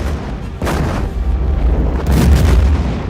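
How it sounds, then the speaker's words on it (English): Star Trek quantum torpedoes striking and destroying a 600-meter Borg sphere: two heavy, booming explosion bursts with deep rumbling low end, loud and close, the second blast longer and fuller. "Here we see 4 quantum torpedoes destroying a 600-meter wide Borg sphere."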